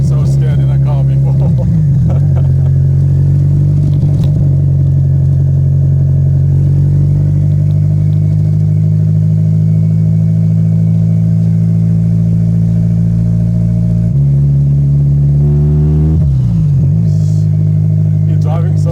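VW Golf Mk1 turbo with a straight-pipe exhaust and no muffler, driving with a loud, deep, droning engine note heard from inside the car, rising and falling through gear changes.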